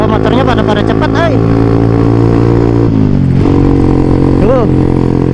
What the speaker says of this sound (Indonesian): Wah, motornya pada cepat ay.